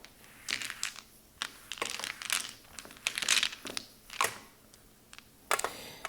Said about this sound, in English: put the tiles down, and shuffle.